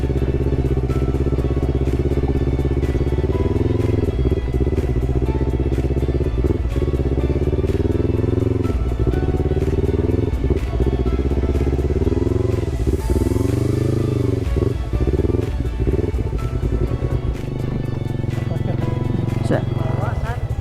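A Yamaha MT-25 motorcycle engine idles and rumbles steadily close by while people talk over it at a campsite in Pangalengan, West Java.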